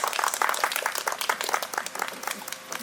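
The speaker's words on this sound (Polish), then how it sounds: "Brawa" An outdoor audience at the opening of a freestanding community gazebo in a village claps for the initiative group leader, a brisk ragged patter of many hands fading slightly toward the end.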